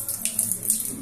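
Peas being washed under running water at a kitchen tap, a short steady splash of flowing water alone with no talk.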